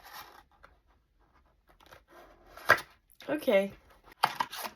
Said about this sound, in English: we are gonna rip into our Black Bolt Booster Bundle